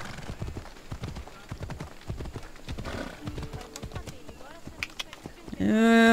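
Steady clip-clop of a horse's hooves in Assassin's Creed Odyssey, close and rhythmic, followed by a short whinny and someone speaking at the end.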